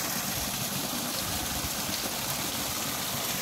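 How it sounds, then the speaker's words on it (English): Steady broadband rushing of falling water, a constant even roar with no breaks. "A waterfall being built here."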